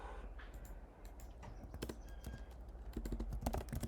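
Fingers tap out quick, irregular clusters of keystrokes on a computer keyboard, close and fairly faint over a low room hum, with a denser burst near the end.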